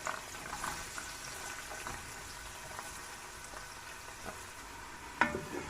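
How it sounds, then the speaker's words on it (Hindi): Soft sizzling and crackling of onion and garlic frying in hot oil for mutton paya, with occasional light stirring scrapes and a sharper clink near the end. "ऑयल गर्म हो गया, अब इसमें मैं प्याज और लहसुन शामिल करूँगी।"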